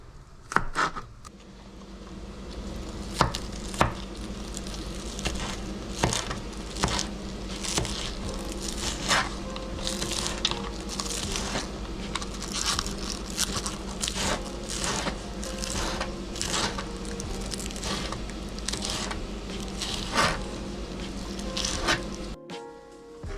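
A knife chops green onions on a cutting board in a long series of sharp, fairly regular thuds close by, with a brief pause near the start and no talking.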